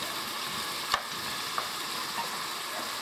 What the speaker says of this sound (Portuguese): Então tem que fritar, dona Nelly, bem fritinho.